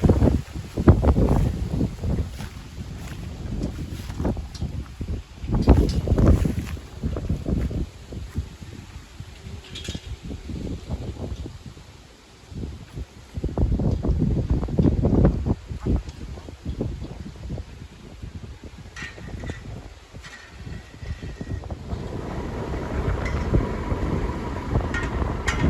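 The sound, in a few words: strong wind in open rice field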